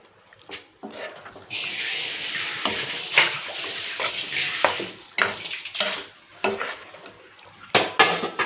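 Chicken is stirred in a pan of spiced masala for chicken varuval, with a steady frying sizzle and repeated scraping and clanking of a spoon against metal, close and fairly loud.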